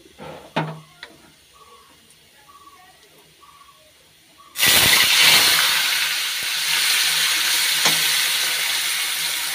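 Cabbage and fish roe frying in a pan, a few soft clunks and then a sudden loud, steady sizzle and hiss as the cabbage goes in, close and continuous with some stirring.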